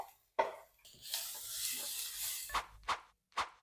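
Garlic, onions and green chili frying in oil, a bright continuous sizzle interrupted by several sharp clinks of a utensil stirring the pan, close and clear with no talking.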